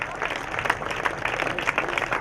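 An outdoor crowd claps and cheers steadily as children run a school race, under a voice calling over a loudspeaker.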